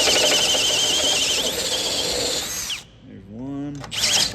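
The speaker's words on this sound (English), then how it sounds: "It's the kind of a unibit, 1/2 inch drill bit." A cordless drill bores through metal with a 1/2 inch unibit during solid axle swap and winch bumper fabrication, a loud steady whine for almost three seconds, then a brief pause and a shorter second burst, with a voice talking in the gap.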